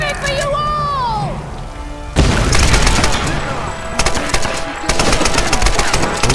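Grenade launcher fire and explosions in the video game Tomb Raider 2013: a calmer opening with whistling tones gives way to loud, dense bursts of rapid blasts and booms that keep going to the end.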